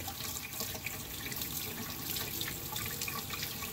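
A hot tap in a conversion pours a constant stream of water, an even, close hiss and splatter lasting throughout without talk.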